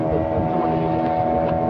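A tourist boat ride from Baga beach in Goa, heard as a steady engine drone under rushing wind buffeting the microphone, continuous and close for the whole short stretch.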